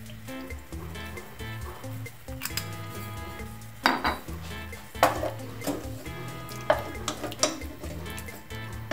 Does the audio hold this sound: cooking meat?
yes